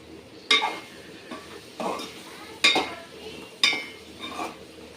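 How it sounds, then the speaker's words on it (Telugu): Gongura boti curry, tripe cooked with gongura leaves and whole garam masala, is stirred in a pan with a spoon. Four distinct scraping, clinking strokes come at roughly one-second intervals over a faint sizzle, with no talking. "కలుపుతామండి ఒకసారి కలుపుదాము కూర"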